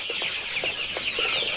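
Month-old tiger breed chickens cluck on a farm in a quick series of short, close calls over a bright, steady hiss of ambient noise.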